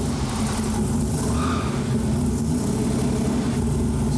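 A Ford Falcon engine at a low, throaty idle, with a steady, close rumble and a deep pulsing beat continuing without letup.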